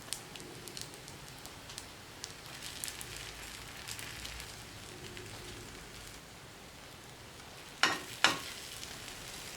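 Leftover rice mixture frying over low heat in a pan, a faint continuous sizzle with two sharp utensil knocks near the end.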